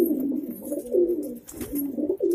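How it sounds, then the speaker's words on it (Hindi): Pigeons kept for fighting give soft, low, throaty coos in repeated rolling bursts, close and fairly loud, with no talk over them. "आपने कबूतर लेके आने हैं"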